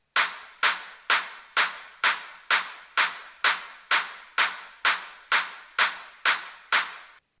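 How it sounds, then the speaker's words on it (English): Electronic clap sample in an FL Studio house drum pattern, a bright snappy hit repeated about fourteen times at an even, quick pulse, crisp and isolated with short noisy decays. "Clap."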